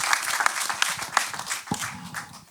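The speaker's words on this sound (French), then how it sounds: "On applaudit Fabrice pour l'encourager." An audience at a Paris mayoral candidates' hearing on exclusion applauds to encourage a participant, steady mid-level clapping that carries on throughout, with a few sharper claps standing out near the front.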